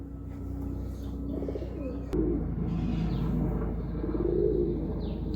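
Pigeons coo softly in a low, throaty murmur at close range. The calls are faint and continuous against a steady background hum.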